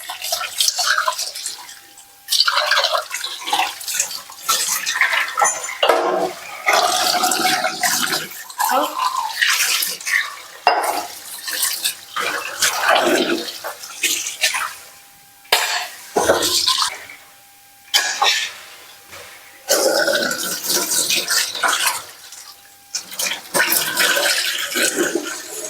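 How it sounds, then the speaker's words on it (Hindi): Water gushes and splashes in uneven bursts while dishes are washed by hand, the flow starting and stopping with brief gaps, close and fairly loud, with no talking. "मैं बर्तन धो रही हूँ"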